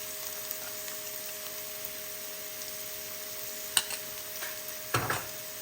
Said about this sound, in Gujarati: હવે આપણે ડુંગળીને બરાબર રીતે મિક્સ કરી દઈએ. બધું મીડિયમ ગેસ પર જ કરવાનું છે.